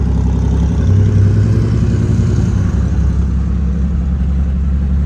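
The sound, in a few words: car engine revving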